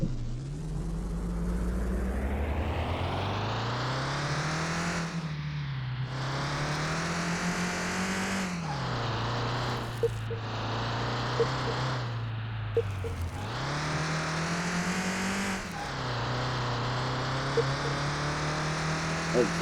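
A car in Car Mechanic Simulator drives on the test track, its engine droning loud and steady, revving up and dropping back repeatedly as it shifts through gears, with no voices.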